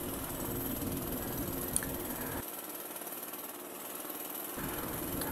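A jackhammer breaking up cement ground as workers dig: steady, fairly faint rapid hammering that cuts out for about two seconds, then starts again.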